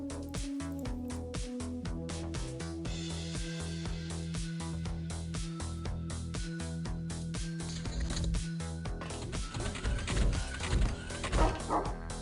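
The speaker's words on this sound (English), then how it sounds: "That's a dog." Dog barking in the XPiratez strategy video game, a dense run of sharp yipping barks and whimpers over continuous game music and effects, moderately loud and steady throughout.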